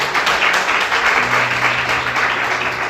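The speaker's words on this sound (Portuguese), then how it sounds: "Vamos aplaudir Jesus." Church congregation applauding after a call to praise Jesus at an evening service: steady, dense clapping from many hands, fairly loud and sustained throughout, with no one speaking over it.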